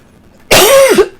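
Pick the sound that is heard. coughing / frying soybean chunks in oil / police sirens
coughing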